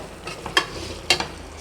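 Sautéed tomatoes for biryani are stirred in a pan, giving two short, fairly quiet scraping strokes a half-second apart over a soft background hiss.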